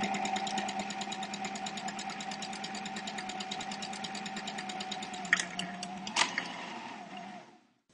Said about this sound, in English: how to make this, a QR code scarf, on this, a computerized knitting machine